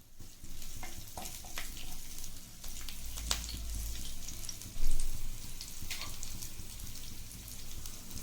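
Curry leaves sizzle in about four tablespoons of hot oil in a pan for a soya chunks fry, a steady close crackle with scattered sharp pops and a brief louder burst near the end.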